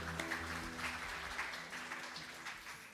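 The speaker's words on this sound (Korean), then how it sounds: "수고해 주신 원소연 실장님께 큰 박수 부탁드립니다" An audience at a policy seminar applauds a presenter, a steady, fairly quiet patter of clapping that holds evenly for a few seconds.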